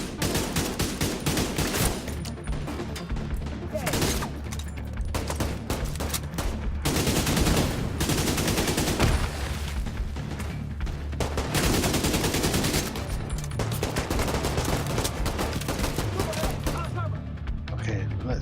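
Rapid automatic gunfire from The Division 2 fills the scene in dense, loud bursts with brief lulls, mixed with faint game voices and ambience throughout.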